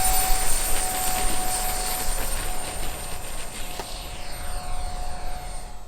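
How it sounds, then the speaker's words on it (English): A small CargoJet RC airplane engine buzzes steadily at high pitch during a long takeoff roll on grass, holding a constant whine that fades gradually, with wind noise underneath. "Okay, that's a pretty long takeoff roll."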